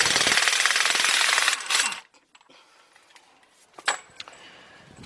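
An impact wrench with a 33mm deep 1/2-inch drive impact socket hammers loudly at a front axle nut on a 2006 Kia Sorento LX, a dense rattling burst for about two seconds, followed by clinks of the socket and parts.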